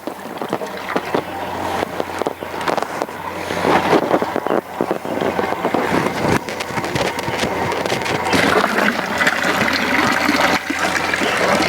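Steady rushing water pours continuously through a garden siphon, a broad hissing flow with gurgles and splashes, close and fairly loud throughout with no voices.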